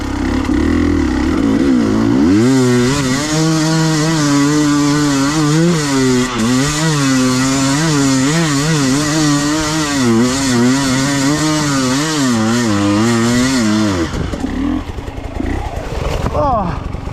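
A KTM TPI two-stroke motorcycle engine runs loudly up close after a short lead-in, idling and revving in wavering bursts for about twelve seconds before cutting off abruptly near the end.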